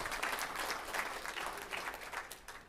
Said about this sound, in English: Let's give a great hand clap this morning for Youth Sunday.